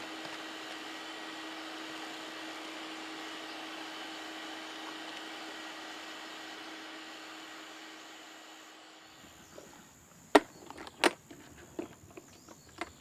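Brick raking and pointing dust extractor motor running with a steady whining roar for several seconds, then switching off and winding down, followed by a few close clicks and knocks from handling the unit.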